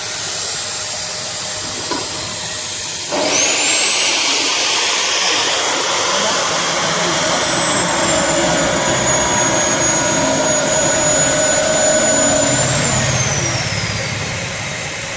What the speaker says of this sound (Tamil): ஸ்ட்ரைட்டாக இருக்கிற எண்டை வந்து சேஸ்லேயே வச்சு வெல்டு பண்ண போகிறோம்